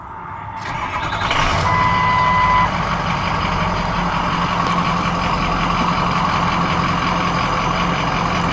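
2004 Ford F350 Super Duty Lariat with the Powerstroke diesel and 150,000 miles cranks over briefly, then settles into a steady, loud, close idle; a high warning beep sounds near the start, and nobody speaks.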